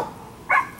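A single short dog bark, a sharp yip from a small pup, rings out once indoors against quiet background hiss.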